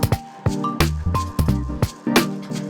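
Blood shrimp being poured with water into a home reef aquarium: several short splashing, sloshing bursts of water, close and fairly loud, with a squishy liquid quality.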